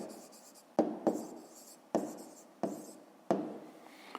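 Pen strokes on paper for a fifth-grade math exercise come as short close scratches, separated by a few sharp taps where the pen meets the page, in a quiet room with no speech.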